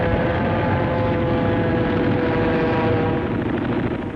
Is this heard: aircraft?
yes